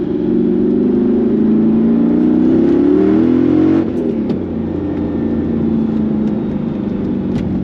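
A Mercedes C55 AMG with a special tune revs hard, its engine note climbing loudly before easing back into a lower, steady drone, close and without talk.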